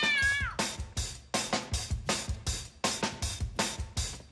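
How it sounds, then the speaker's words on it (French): A cat meows repeatedly in a fast, insistent series of loud, close calls, some drawn out into a caterwauling whine. "Un chat."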